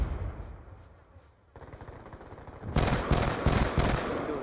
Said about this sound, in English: That's some machine guns